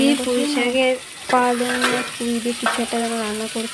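A chicken dish fries and is stirred in a pan, a steady close sizzle with scraping movement running under a person talking throughout.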